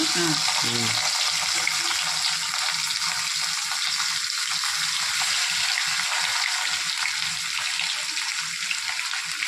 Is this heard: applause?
no